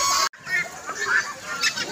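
Chickens cluck close by inside a bird aviary, short repeated calls over a busy background after a brief cut.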